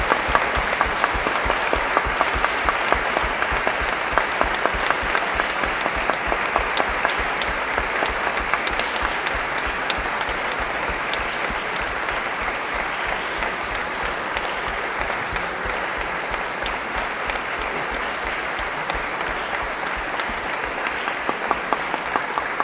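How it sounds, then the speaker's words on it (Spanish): Sustained applause from a large audience at a book fair in Mexico City's Palacio de Minería, an even, dense wash of many hands clapping for over twenty seconds, loud and steady without talk. "rendir un pequeñísimo homenaje a doña Raquel con un aplauso para esa brillante señora"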